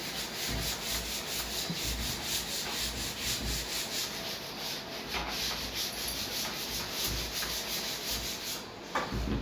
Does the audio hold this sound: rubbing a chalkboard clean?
yes